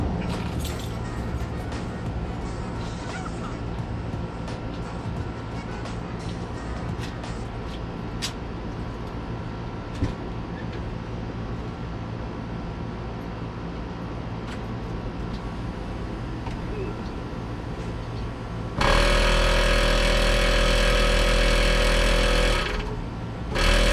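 A steady mechanical background hum runs until a VIAIR air compressor fitted to a 2012 Ford F350 kicks on with a loud, even buzzing drone. It runs for a few seconds, then cuts out.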